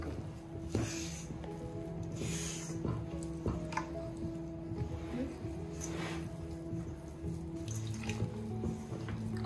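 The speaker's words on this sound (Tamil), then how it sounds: "கொஞ்சம் கொஞ்சமா தண்ணி போட்டுட்டு நீங்க மிக்ஸ் பண்ணிக்கோங்க." Water is poured little by little into flour while making dough for onion murukku, a soft, close trickle that comes in short bursts with small splashes, heard alone without talking.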